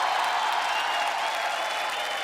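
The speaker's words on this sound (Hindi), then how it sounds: "एक बार जोरदार तालियां कीकू भाई के लिए हो जाए।" Studio audience at a televised comedy talk show giving loud applause, a dense, even roar of clapping that fills the whole stretch without a break or any talking.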